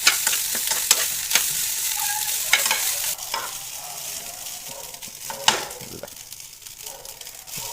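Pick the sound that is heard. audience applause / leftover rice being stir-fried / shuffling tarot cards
leftover rice being stir-fried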